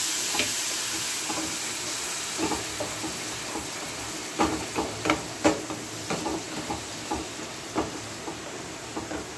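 Spices sizzle and hiss in a hot pan after a light sprinkle of water, a steady frying crackle with scattered louder pops and spits, no voices.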